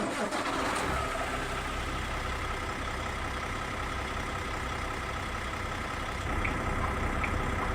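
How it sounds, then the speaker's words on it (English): A Cummins truck engine starts in American Truck Simulator, a brief cranking catch settling into a steady, loud diesel idle rumble that continues throughout. "Let's go ahead and start up the truck here and listen to that Cummins,"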